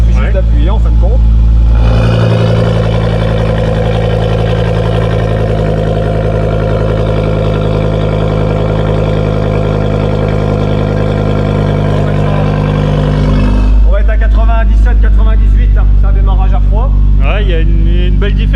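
A car engine idles loudly and close with its pneumatic exhaust valves opened by remote, a deep droning rumble holding steady for about twelve seconds before cutting to a lower idle as a voice speaks over it.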